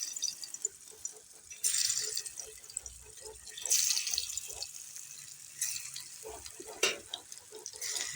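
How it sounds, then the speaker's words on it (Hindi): Mooli (radish) kebabs fry in hot oil over a low flame, giving a soft, bubbly sizzle with crackling pops and occasional bursts of louder spattering. Close but fairly quiet, no talking. "लो फ्लेम पे हम अपने कबाब फ्राई करेंगे"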